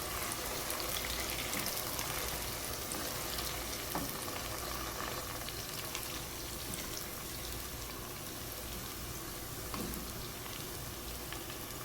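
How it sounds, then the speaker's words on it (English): Onions and mint leaves stir-frying in a pan for biryani, giving a dense, continuous sizzle and crackle that stays loud and steady throughout, with occasional small pops and no voices. "Stir fry everything for 2 to 3 minutes"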